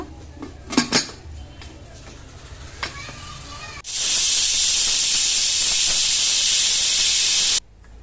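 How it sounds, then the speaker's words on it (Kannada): A pressure cooker of lentils, tomato and green chilli lets out a loud, steady hiss of escaping steam for about four seconds, cutting off abruptly, after some clinking of pots and utensils. "ಈಗ ಕುಕ್ಕರ್ ಮುಚ್ಚಳ ಹಾಕಿ ಎರಡು ವಿಷಲ್ ತೊಗೋಬೇಕು"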